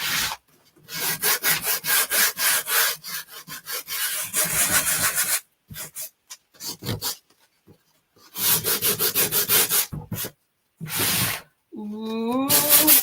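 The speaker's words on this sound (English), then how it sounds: "sand a bit here and there." Hand sanding of painted wood furniture: rhythmic back-and-forth rubbing strokes in several bursts separated by pauses, close and clear, with a brief squeaky sound near the end.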